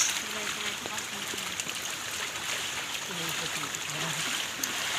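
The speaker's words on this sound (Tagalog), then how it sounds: "Ito po yung batis ng kawalan." A small stream flows with a steady broadband rush while children's voices chatter and talk throughout over the water.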